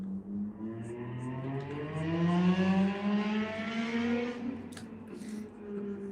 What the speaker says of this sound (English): I don't know why people drive with such loud engines.